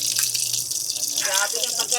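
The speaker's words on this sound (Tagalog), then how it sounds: "maririnig kaya niya ang tunog ng tubig" Water runs steadily from a tap, a close, continuous gushing splash with shifting bubbling tones.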